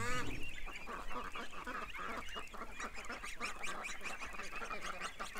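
Geese honking outdoors in a repeated, clamorous series of loud calls from several birds, continuing steadily without speech.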